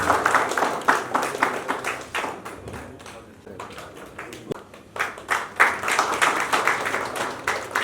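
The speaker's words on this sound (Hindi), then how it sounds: "इसी बीच करतल ध्वनि से स्वागत होना चाहिए।" Scattered audience clapping at a ceremony honoring social workers, uneven bursts of hand claps swelling and easing, fairly close, with little talk.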